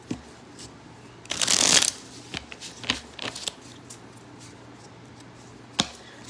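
A deck of playing cards being shuffled, one loud riffling burst followed by several sharp taps and flicks, close and fairly quiet, with no talking.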